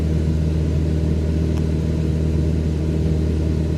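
A Cessna 172 engine at reduced throttle, around 2200 RPM, in Microsoft Flight Simulator, giving a steady, loud, droning propeller rumble with no change throughout.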